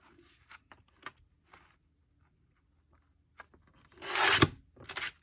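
Paper being trimmed along a cut edge, with scattered soft snips and rubbing scrapes, then a louder rasping cut near the end, close and quiet.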